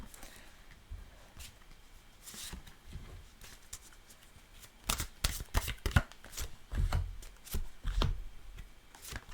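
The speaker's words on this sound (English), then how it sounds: "The cards are kind of coming out uniformly, like one after another, right next to each other." Tarot cards are shuffled and dealt out one after another, giving soft papery riffles and slaps that grow louder and busier in the second half, close by with no talking.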